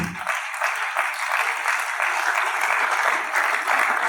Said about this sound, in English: Keep clapping until she takes her seat.